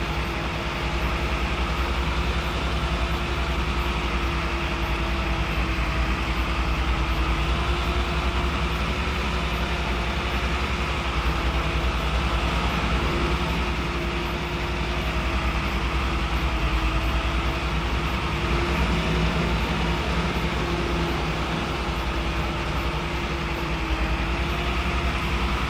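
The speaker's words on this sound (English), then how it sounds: "That must be the train, is it?" A train rumbles steadily along a railway in the video game Farming Simulator 25, with a continuous low rolling drone and a faint tonal hum holding at moderate level throughout.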